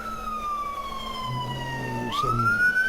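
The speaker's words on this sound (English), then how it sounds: "sorry, got a siren going by." An emergency vehicle siren passes outside a window, its steady high wail sliding down in pitch and then jumping back up, fairly loud and close over a low rumble of traffic.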